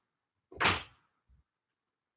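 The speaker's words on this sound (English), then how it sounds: "I'm hearing somebody knocking on my door" A single soft, dull thump sounds against a door, then a fainter second bump and a tiny click, in an otherwise quiet room at night.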